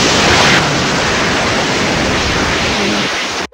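A group of Minecraft players voice a hissing white-noise imitation together. It is loud and sustained, with a sharp start and a sudden cutoff after about three and a half seconds.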